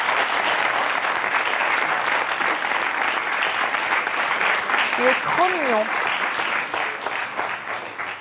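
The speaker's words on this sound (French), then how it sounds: "Est-ce qu'on peut l'applaudir," A French television talk-show studio audience applauds a young man, steady loud clapping filling the scene throughout, with a voice speaking briefly over it midway.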